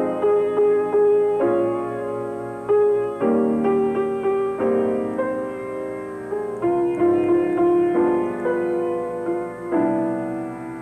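A jazz standard played straight from the sheet music on a harmonic instrument, with steady sustained chords changing in a regular rhythm, close and clear, without any voices.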